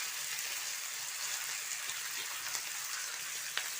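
Curry leaves and carrot frying in a pan give a steady, dense hiss and crackle throughout, with occasional small pops, close and even in level, and no talking.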